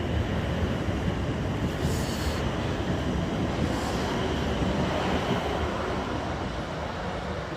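A South Western Railway Class 444 electric train, unit 444045, rumbles past at moderate distance with a steady wheel roar and faint squeals, fading slightly toward the end.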